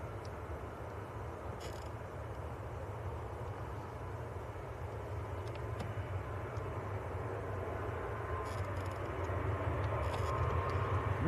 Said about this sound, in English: Ryanair just getting airborne